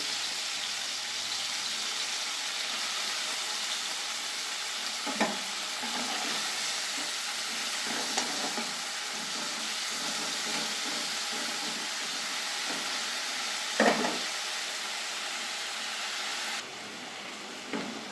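Prawns coated in turmeric and salt fry lightly in hot oil in a wok, giving a steady, close sizzle with a few soft clicks of a utensil stirring them.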